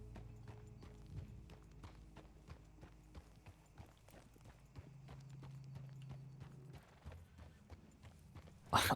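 Steady hoof clip-clop of a horse walking in a role-play video game server, moderately close, with a brief sharp noise at the very end.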